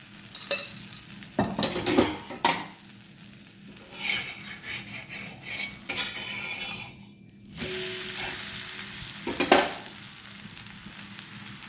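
Talipattu, a North Karnataka flatbread, frying in oil on a pan: a steady sizzle with intermittent scraping and light clinks of a utensil, rising louder toward the end.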